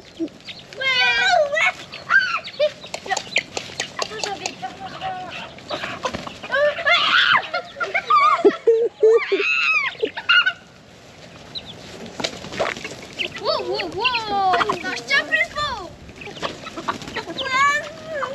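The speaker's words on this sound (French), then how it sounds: "c'est l'heure de donner à manger aux poules" Chickens on an Argentine ranch cluck and squawk in a busy flock while being fed vegetable peelings, with a dog barking now and then and people talking nearby throughout.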